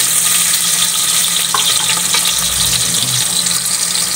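Aromatics sizzle steadily in a hot pan for a Visayan-style salted cod dish, with a constant close frying hiss and light scraping of stirring.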